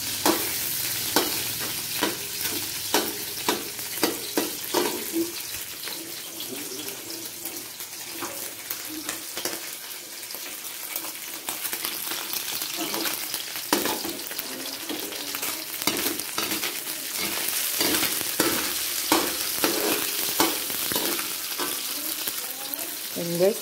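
Noodles for pancit guisado with squid being stirred and fried in a pan, a steady close sizzle broken by repeated scraping and clattering strokes of the utensil throughout.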